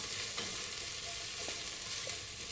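Rice and lentils frying in soybean oil with ginger, garlic paste and garam masala for khichuri, a steady close sizzle with soft stirring scrapes throughout.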